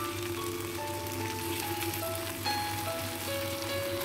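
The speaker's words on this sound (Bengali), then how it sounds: "তারপর আমি সেদ্ধ করে রাখা পাস্তাগুলো দিয়ে দিচ্ছি এর মধ্যে।" Boiled macaroni goes into a hot pan for an Indian-style masala pasta, giving a steady, even sizzle like light rain, with soft sustained musical tones playing over it.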